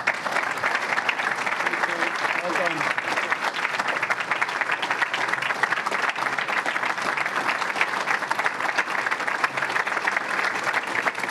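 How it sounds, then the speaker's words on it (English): A fire department hall crowd gives steady, dense applause for Governor Andrew Cuomo, a continuous loud patter of many hands with a few brief voices mixed in. "So please give him a warm round of applause"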